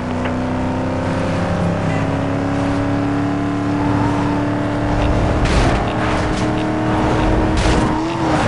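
A Chevrolet Camaro SS driven in the video game Need for Speed Most Wanted: a loud, sustained engine roar with shifting pitch, revving, and brief tire squeals.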